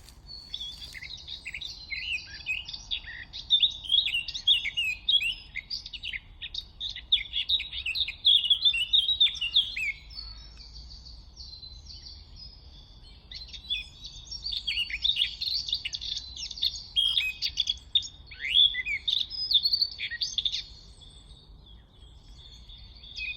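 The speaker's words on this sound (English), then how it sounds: "The blackcap does have the sobriquet, or did have the sobriquet, of being known as the northern nightingale because of its rather fantastic song." A blackcap sings in two long bursts of rapid scratchy warbling that turn to clearer, fluty phrases, fairly close and clear over a faint low rumble.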